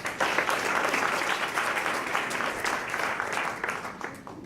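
Audience applause fills a festive reception held by a German friends association at the University of Haifa, a dense, steady clapping from a crowd that runs throughout and tapers slightly near the end.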